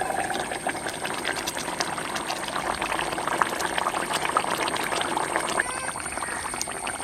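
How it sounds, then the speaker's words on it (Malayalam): Kottayam-style mackerel (ayala) curry bubbling at a rolling boil in a pot, a busy continuous simmer of popping bubbles, close and even throughout. "അപ്പോൾ നമ്മുടെ കറി നന്നായിട്ട് തിളച്ചിട്ടുണ്ട്."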